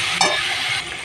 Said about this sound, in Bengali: হলুদ দিয়ে একটু ভেজে নেব।